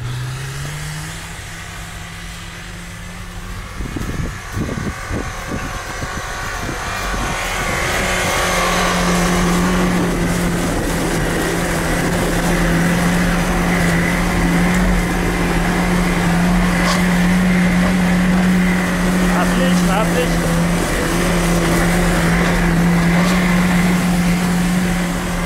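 A car engine revs hard while drifting in second low gear, a loud, sustained drone close by that climbs after a few seconds of rough, uneven throttle bursts and then holds a steady high pitch throughout.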